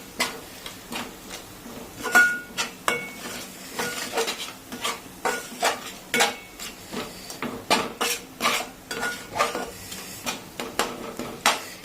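Spoon clinking and scraping against a pot while salmon fish curry is stirred, a steady series of close, sharp metallic taps in irregular rhythm with no talking.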